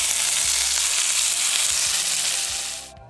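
A salmon fillet sizzles skin side down in a hot pan, giving a bright, dense frying hiss that holds steady close by, then quickly fades away at the end.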